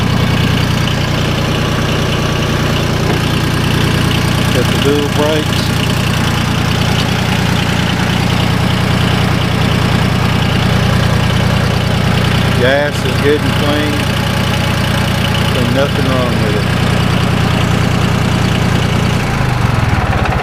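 An original-paint John Deere 850 diesel tractor with 385 hours idles with a steady low rumble and faint knock throughout, while someone talks over the engine noise.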